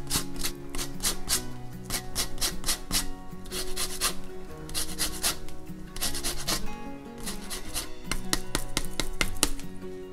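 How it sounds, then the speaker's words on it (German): Half a lemon's zest grated over a batter of baking powder and a pinch of salt: brisk, rhythmic rasping strokes in quick bursts, close and steady with short pauses between runs. "wir geben uns noch den Abrieb einer halben Zitrone darüber"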